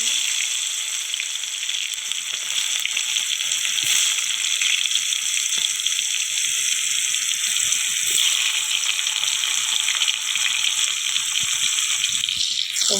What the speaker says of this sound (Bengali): টমেটো কুচি দিয়ে দিলাম। এবার একটু ভালো করে কষিয়ে নেব টমেটোগুলো